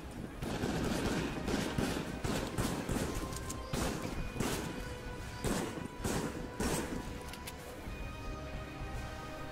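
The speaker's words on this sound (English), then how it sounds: "Nice fusion charge shot kill there on the ninja." Gunfire and energy-weapon blasts in the VR shooter Raw Data, including a fusion charge shot kill, with repeated loud bursts and crashing impacts in rapid, irregular succession over a constant background hum.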